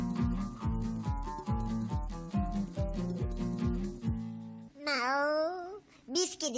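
Near the end of a Turkish children's cartoon, a cartoon cat gives a few high, sliding meows, right after a bouncy music passage.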